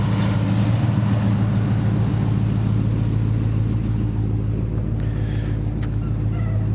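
A 1970 Ford Torino with a 351 Cleveland V8 is being driven, its engine holding a steady, deep rumbling drone at close range throughout.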